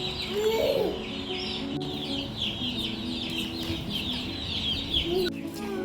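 Chicks and chickens at a large bird park in Kuala Lumpur cluck and cheep close by in a busy overlapping chorus of short calls, with a few brief voices now and then.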